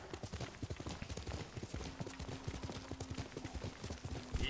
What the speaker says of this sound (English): if you hit your horse, he'll run away